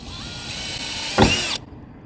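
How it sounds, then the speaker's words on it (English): Power drill bores a pilot hole into bare car body metal during a Dodge Charger spoiler install, a steady whirring hum that rises into a brief harsh grinding bite before cutting off abruptly. "that's just your pilot hole before we start actually drilling the other ones"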